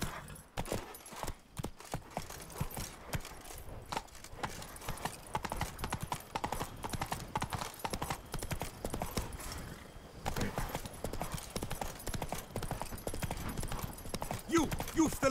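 Horse hooves in The Witcher 3 video game clip-clop in a steady, continuous trotting rhythm at close range for the whole stretch, with faint ambient game sound underneath.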